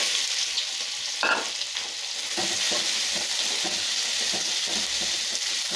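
Onions and cashews frying in hot oil for rava kichadi, with a continuous bright sizzle under repeated stirring scrapes. A louder clatter comes early, then steady stirring strokes follow.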